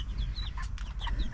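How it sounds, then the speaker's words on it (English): Young chicks and a couple of turkeys in a backyard homestead pen, peeping and clucking continuously with many overlapping close chirps over a low rumble. "And inside we have all of our lovely chicks. Plus a couple of turkeys."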